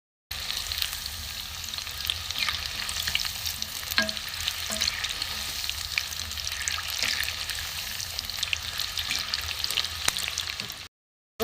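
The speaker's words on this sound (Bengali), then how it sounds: "একটু ভালো করে ভাজা হোক এবার" Cauliflower pakoras deep frying in hot oil give a steady, dense sizzle and bubbling that holds at an even level throughout, with a few faint clinks, close by and with no voices.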